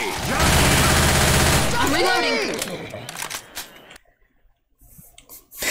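Rapid overlapping gunfire from co-op survivors in Left 4 Dead 2, a loud dense burst of shots in the first two seconds, then scattered fainter pops with players talking over the game audio.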